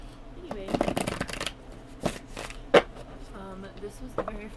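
A tarot card deck is shuffled up close, with a dense riffling burst, then scattered card slaps and flicks. A voice talks softly underneath.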